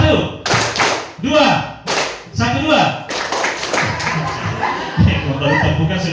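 Secondary school students at SMPN 6 Tolitoli clap on cue in short bursts, a few sharp claps landing together between loud spoken counts from a presenter, with some shuffling and scattered chuckles in the room.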